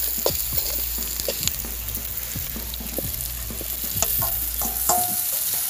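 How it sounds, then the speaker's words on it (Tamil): Onions and curry leaves frying in oil in a pan, a constant sizzle under repeated scraping and clinking as the spoon stirs, close and alone. "இப்போ கருவேப்பிலையே போடுவோம் வெங்காயம் பதங்கிட்டு நம்ம பிளாக் கொட்டையே போடுவோம் போட்டு ஒரு கிளறு கிளறி விட்டுட்டு"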